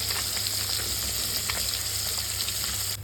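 Koi fish fry in a generous amount of oil for a curry, making a dense, continuous sizzling hiss at a steady loud level with faint crackles throughout and no voices.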